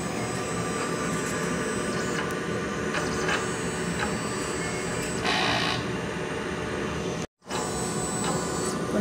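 A steady mechanical whir and hum from a printer running a head cleaning cycle continues throughout, with a brief cutout near the end, at close range.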